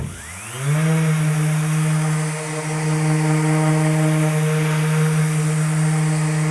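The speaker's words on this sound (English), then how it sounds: "The ease of this sander is kind of insane." An orbital sander priced under $200 spins up quickly, then holds a loud, steady motor whine with a buzzy drone underneath, close and continuous, with a brief dip partway through.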